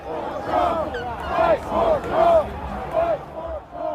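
A rally crowd near the White House under yellow flags, voices rising in repeated loud chanted shouts at a steady rhythm, close and dense.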